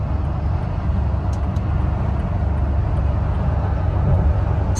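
Toyota Tacoma pickup engine after an Overland torque tune, a steady low rumble running continuously and fairly loud throughout, with no talk over it.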